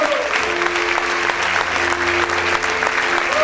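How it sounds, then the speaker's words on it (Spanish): A church congregation claps loudly and steadily during worship, a dense continuous wash of applause with sustained tones from music or singing running underneath throughout. "Vamos a aplaudir fuerte a nuestro Rey."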